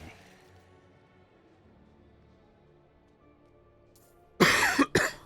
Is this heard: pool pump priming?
no